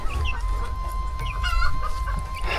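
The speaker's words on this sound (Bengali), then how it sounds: "দেখো, এটা হচ্ছে ব্রয়লার মুরগি রেখে দিয়েছে।" Broiler chickens kept in a pen on a river char island cluck and chatter continuously, with a steady background hum and a few sharper calls rising above the flock.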